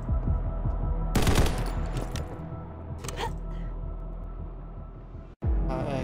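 In the Combat Master video game, a shooting range rattles with gunfire: a loud burst of rapid automatic shots, a few scattered single cracks, then firing resumes after a brief cut, over a low steady hum and someone talking.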